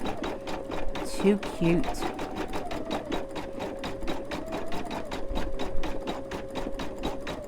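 An embroidery machine stitches a Dollar Tree potholder design, its needle thumping in a fast, even rhythm with a steady motor hum underneath. A voice talks briefly over the close, continuous stitching.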